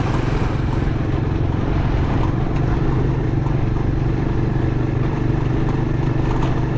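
A loaded motorcycle engine runs steadily, a loud continuous low drone with faint clatter and no talk.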